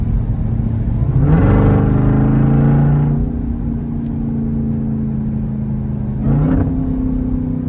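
A Jeep Trackhawk accelerating in the snow lets out a loud supercharger whine over a deep engine rumble, rising in pitch in one long surge, easing off, then swelling briefly again near the end.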